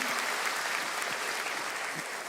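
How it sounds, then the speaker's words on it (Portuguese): Church audience applause for a choir, a full sustained burst of clapping filling the room at steady loudness throughout. "Uma salva de palmas para esse coral maravilhoso."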